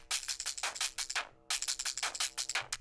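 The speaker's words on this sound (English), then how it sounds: "distorted this break and resampled it in Vital with a sine wave to" Distorted drum break resampled in Vital through a sine wave, giving harsh, bright, gritty hits in a fast choppy rhythm, with a brief gap midway before the loop resumes, loud and alone.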